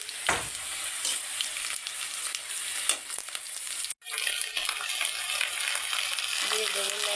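Fish curry frying and sizzling in hot oil in a home kitchen, a steady close crackle with occasional stirring scrapes, one brief pause midway before the sizzle resumes at full strength.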